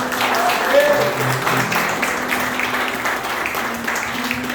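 Applause from a church congregation during a Sunday worship service, a steady broadband patter of many hands sustained throughout, with a low hum underneath and a voice briefly audible.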